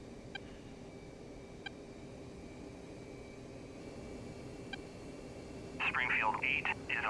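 A military aircraft taxis in the flight simulator game DCS World, its engine a steady, even drone with a thin whine held throughout, while a voice briefly talks over it near the end.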